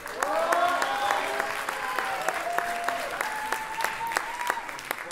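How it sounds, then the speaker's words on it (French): Audience applause at a French-language slam poetry championship final in Le Mans, a steady wash of clapping from a large indoor crowd that holds loud throughout. "j'aimerais qu'on fasse un petit peu d'applaudissements"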